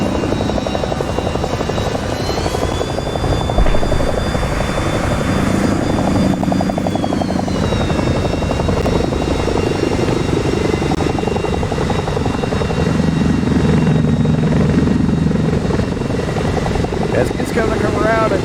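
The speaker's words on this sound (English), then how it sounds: "the Mi-8. A medium lift twin turbine helicopter" An Mi-8 twin-turbine medium-lift helicopter in an air show flight game roars loud and steady, with rotor thump and a whining turbine tone that rises and shifts as it manoeuvres, while a commentator talks over it.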